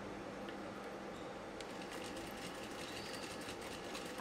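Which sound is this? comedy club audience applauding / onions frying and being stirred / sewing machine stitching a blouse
sewing machine stitching a blouse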